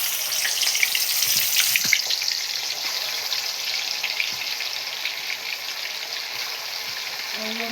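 Fish dropped into a pan of hot oil, first a bright hiss of frying that settles into a steady, close sizzle with faint bubbling and a few soft clinks, with a voice heard briefly.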